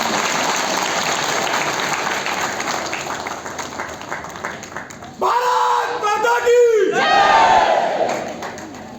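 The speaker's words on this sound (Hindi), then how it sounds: "आप सब लोग इस बंगाल के शेर का जोरदार तालियों से स्वागत" A large crowd at a public gathering gives loud, sustained applause, with dense clapping that swells into shouted cheers and whoops in the later part.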